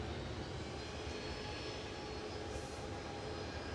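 Qatar Airways jet aircraft at Manchester Airport, a steady broadband engine roar that holds at a constant level throughout, sounding at a moderate distance with no voices.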